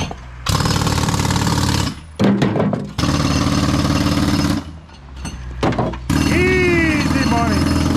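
A jackhammer breaking concrete at the front of a house, hammering in loud, sustained bursts broken by short pauses, with people shouting and talking between and over the bursts.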